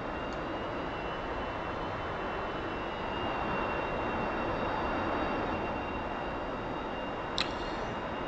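A T-45 jet trainer taxis in the DCS flight simulator game, with a steady, even engine roar and a faint high whine that hold throughout, loud and unbroken apart from one brief click near the end.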